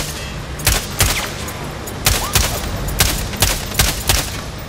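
Rifle shots in the game Sniper Ghost Warrior Contracts 2 crack out in irregular bursts, loud and close, with brief echoing tails between them and no voices.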